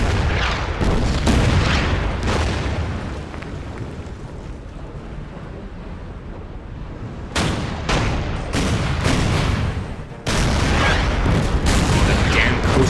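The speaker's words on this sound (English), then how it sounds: "That damn coastal gun." Heavy coastal gun fire in the naval strategy game Order of Battle: Kriegsmarine, with several loud booming blasts and rumbling explosions spread across a continuous din of battle noise.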